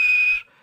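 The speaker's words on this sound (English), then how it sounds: "And he blew his whistle." Edward, a steam locomotive, sounds a single short clear whistle blast that holds steady for a moment and then cuts off, leaving a faint fading tail.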